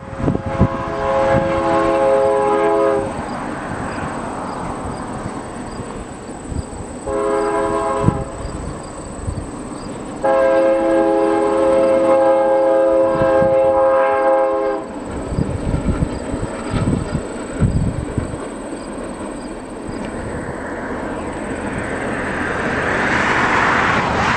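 Santa Fe B40-8W diesel locomotive hauling a manifest freight train, sounding repeated long horn blasts over a steady engine rumble and rolling rail noise, with no talking.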